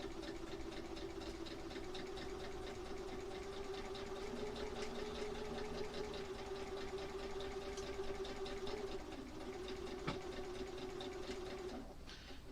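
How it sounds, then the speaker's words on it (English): A sewing machine stitching quilt heart pieces, a steady rapid mechanical hum and needle patter running close and continuous, briefly slowing near the end. "I'm going to just go ahead and sew the second one"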